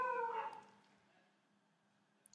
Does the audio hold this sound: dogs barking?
yes